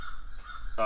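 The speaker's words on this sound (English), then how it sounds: "You can hear the birds outside getting after it." A crow caws harshly outdoors, a short cry at a moderate distance, with a voice briefly audible.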